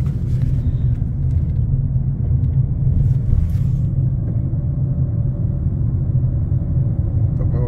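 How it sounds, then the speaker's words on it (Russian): A city bus in Buenos Aires rumbles steadily during a ride, a loud, low, continuous engine drone with road noise and no talking. "Ехали с тобой в автобусе сейчас."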